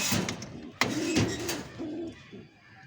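Giribaz pigeons in a home loft give a few soft, low cooing calls, close and fairly quiet, mixed with brief clattering knocks.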